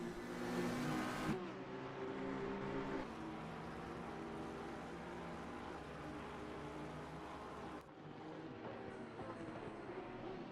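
GT3 race cars in a racing video game hold a steady engine drone along a straight, with shifting tonal layers as the pitch changes and a sharp drop near the end, continuous and fairly loud with no voices.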